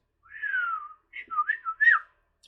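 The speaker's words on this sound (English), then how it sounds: "I'm trying to get my whistle back." A person whistles a short melodic phrase: one long falling note, then a quick run of rising and falling notes, clear, close and alone against silence.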